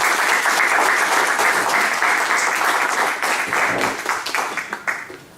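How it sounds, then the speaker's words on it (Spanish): An audience at an academic presentation on the human development of the Mapuche population in La Araucanía claps in dense, sustained applause that thins into scattered claps and fades out. "Un aplauso."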